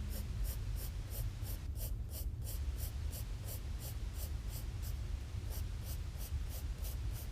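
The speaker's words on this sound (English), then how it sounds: "I find it easier for myself to flick my pencil out and get the shade in the direction of the ribbon." Pencil shading on a sketchbook page while drawing a ribbon, heard as a steady run of quick, close, soft scratchy strokes in an even rhythm.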